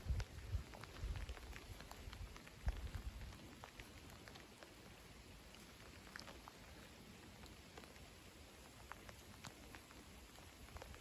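Light rain shower falling at night in a southerly flow, a steady soft patter of drops on surfaces throughout, fairly quiet with scattered louder droplet ticks and no voices.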